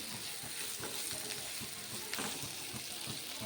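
Onions and boiled egg pieces fry in a pan, a steady close sizzle with soft scraping stirs and light crackling throughout, no one talking.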